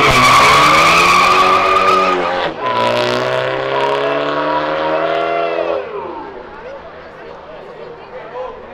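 A Volkswagen Saveiro GTI races in a street drag race, tires skidding with a loud, sustained squeal and a roaring engine that holds its pitch and then fades after several seconds.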